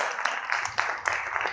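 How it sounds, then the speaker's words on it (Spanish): A church congregation claps during a service, a brief, close, steady patter of hands with a few sharper accents. "Denle otra ofrenda de palmas al Señor"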